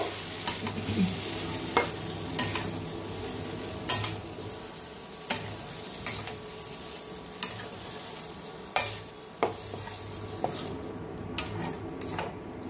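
Young jackfruit frying in a pan, a steady close sizzle broken by regular scraping stirs every second or so, with no voices.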